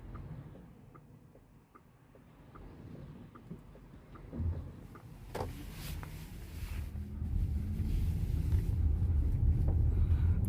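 VW ID.4 electric car pulling away and driving, a quiet cabin that fills with rising tyre and road rumble as speed builds, with small clicks early on and no talking.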